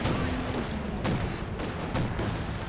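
Artillery shells pound a base in the Company of Heroes 2 strategy game, a steady rumbling barrage with several sharp booming impacts spaced about a second apart.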